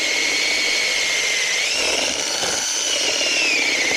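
A power drill bores a hole into dirt with a continuous, loud whining drone whose pitch dips and rises as the bit loads and frees, running alone throughout.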